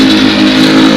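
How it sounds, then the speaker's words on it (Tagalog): Motorbike traffic on a Philippine road, with a dense, steady mid-range engine drone, loud and continuous through the whole second, no voices over it. "Ang dami ng motor nila dito guys."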